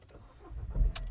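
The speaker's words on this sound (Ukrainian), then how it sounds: "Давайте запустимо двигун." A used Skoda Fabia with 160,000 km fires up: a quiet lead-in, then a short low starter rumble and the engine catching, heard close with a sharp click at the end and no talk.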